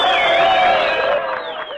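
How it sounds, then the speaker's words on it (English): A crowd cheering sound effect plays when a piece lands on a ladder in a snakes-and-ladders game. It is a close, dense burst of cheers and whoops that holds strong throughout and tapers slightly at the end. "and cheering for a ladder."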